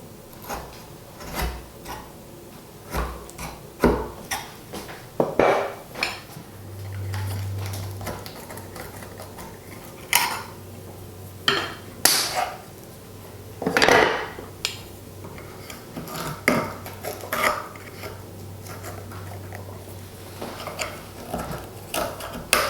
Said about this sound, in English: you can come in with a wider chisel and pare down the walls